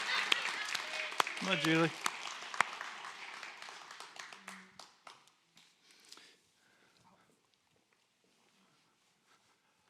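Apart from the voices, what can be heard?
audience clapping as guest walks to stage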